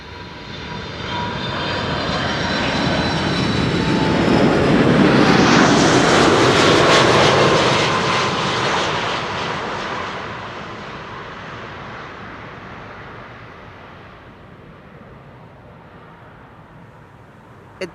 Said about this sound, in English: You guys are all just in time to see the second 747 of the show.